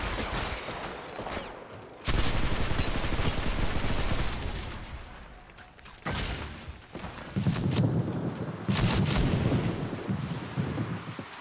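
Sustained bursts of gunfire in the mobile shooter Apex Legends Mobile, loud and continuous with dense rapid fire broken by short pauses, no talking over it.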